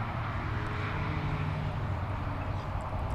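A steady whirring drone of a DJI Mavic Mini's spinning propellers mixed with broadband wind rush from 17 mph winds, continuous and fairly loud throughout.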